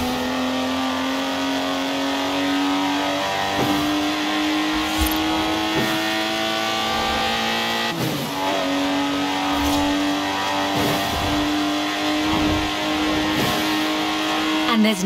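A Lotus Exige's engine in Forza Horizon 4 revs hard and continuously, its loud, steady engine note rising and dipping with a few sharp gear-shift breaks, close and dominant throughout.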